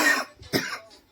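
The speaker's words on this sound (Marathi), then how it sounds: "मला खोकला कधी बसतो माहित नाही" A person coughs twice in quick succession, close and fairly loud, the second cough sharper than the first.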